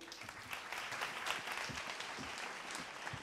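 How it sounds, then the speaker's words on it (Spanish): Audience applause at an institutional welcome event at Fundación Telefónica, steady clapping filling the room as a university president is introduced, no voices over it. "Un fuerte aplauso para él."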